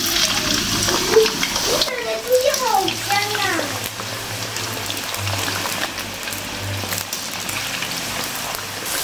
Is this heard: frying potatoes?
yes